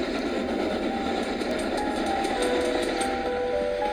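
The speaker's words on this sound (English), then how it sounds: "The train is now producing at about 50 miles an hour" A train rumbles steadily along the rails at about 50 miles an hour, a constant low roar with faint rhythmic clatter and high metallic squeals, no voices.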